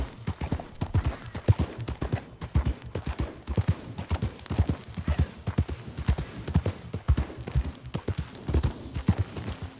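Horse hooves clip-clop steadily while riding in Red Dead Redemption 2, a brisk, even gallop-like rhythm of close, sharp thuds running throughout.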